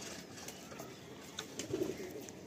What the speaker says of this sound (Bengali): বেশি পায়রা নেই বন্ধুরা, অল্প পায়রা, জাস্ট 4 পেয়ার পায়রা ফর সেলে রাখা হলো।